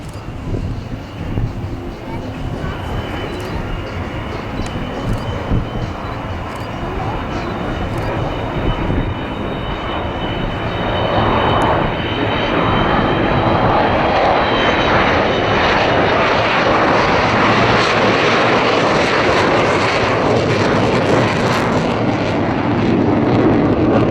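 Avro Vulcan XH558 bomber flying a display at Bournemouth Air Festival, a loud continuous jet roar that swells and grows harsher as it passes, with crowd voices and commentary faint beneath.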